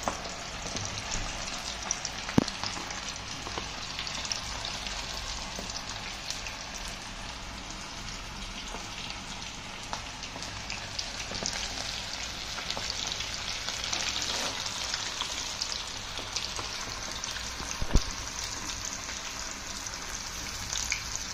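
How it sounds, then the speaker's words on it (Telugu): Chicken popcorn pieces deep frying in hot oil over low-medium flame, a steady dense crackling sizzle throughout with a few sharper pops, close and continuous with no talking. "లో అండ్ మీడియం ఫ్లేమ్లో వేయించుకోవాలి, అప్పుడే చికెన్ క్రిస్పీగా మరియు స్పైసీగా వస్తుంది"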